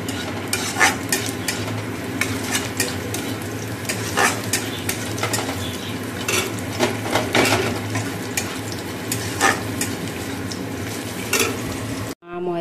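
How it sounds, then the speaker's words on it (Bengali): Onions fry in a pan for keema, a steady close sizzle with frequent scraping stirs and occasional clinks of a utensil against the metal. "এইদিকে কিমাটা করব বলে পেঁয়াজটা ভাজছি।"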